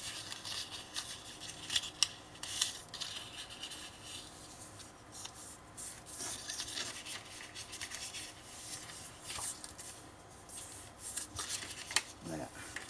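Paper being pressed and folded along scored fold lines for a scrapbook kaleidoscope album, with soft rubbing, creasing swipes and light crinkles at close range, quiet and irregular, with no talk.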